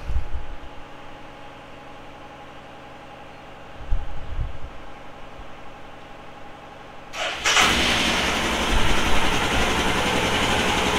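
Engine fitted with a TEC cam, running after 500 km of running-in, holds a steady idle, then swells into a louder, rougher rev near the end, with no talking.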